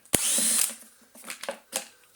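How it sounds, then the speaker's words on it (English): Power drill fitted with a T20 bit removing screws from a cheap Titan wet and dry vacuum: one short loud whir, then a few brief quieter bursts and clicks. "Take our T20, stick it in the drill and"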